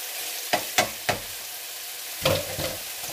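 Tuna tossed in a pan with spinach gives a few sharp sizzling bursts as it is stirred, three quick hisses close together followed by a longer crackling flare after a pause, with no speech.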